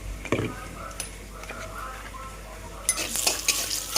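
A spoon stirs spice paste mixed with turmeric powder, salt and a little water, giving soft scraping clinks against a bowl, then a busier burst of stirring near the end, with no voices.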